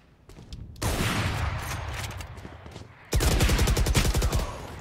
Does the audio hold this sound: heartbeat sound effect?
no